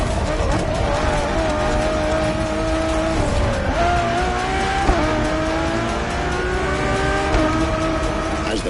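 A Ferrari Enzo supercar engine drones steadily and loudly throughout, its pitch rising and dipping as it shifts through gears, with no talk over it.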